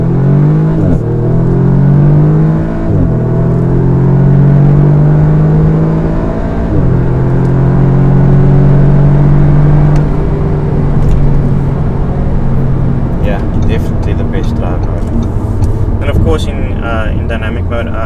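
A 2018 Audi S3 Sedan driven in dynamic mode, engine note climbing and dropping through gear changes with a steady road rumble inside the cabin, loud and close, while someone talks over it.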